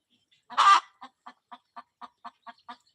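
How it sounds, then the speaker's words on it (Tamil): A chicken lets out one louder squawk, then a steady run of short, evenly spaced clucks. "இங்கே ஒரு கோழி கத்திட்டு இருக்காரு நம்ம கோழி தான்"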